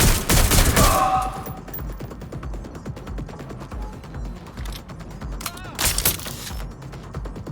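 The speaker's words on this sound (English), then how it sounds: "Suspect has opened fire!" Gunfire in the video game Watch Dogs Legion, set in London: a loud burst at the start followed by rapid fire and mechanical clatter, with another loud burst near the end.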